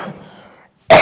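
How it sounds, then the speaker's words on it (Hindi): A single sharp, loud cough bursts out at the end after a short pause, from a teacher lecturing on the Shravan Kumar poem in Hindi. "खांसी नहीं सही हो रही"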